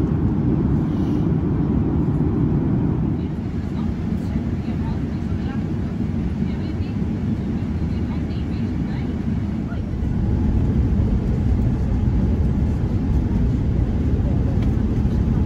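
Steady, loud low roar of cabin noise aboard a KLM Boeing 787-10 Dreamliner during descent, a dense continuous rumble with a slight shift partway through and no clear speech.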